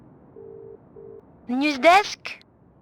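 Telephone tones in Broken Sword 3: The Sleeping Dragon video game: two short steady beeps of a call signal, then a voice answers over the line.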